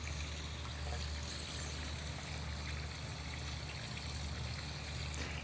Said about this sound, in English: Now you can go ahead and turn it on, and you'll see the bubbles start to come out.